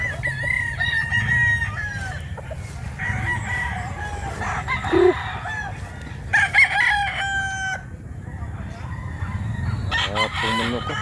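Rooster crowing several times close by on a Cebu farm, long cock-a-doodle-doo calls mixed with clucking from other chickens, with faint talk and low background rumble underneath.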